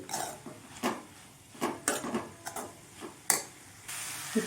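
A spoon stirs grated coconut into carrot, bean and cabbage poriyal in a metal pan, producing a string of distinct scraping clinks and taps at irregular intervals, close and alone.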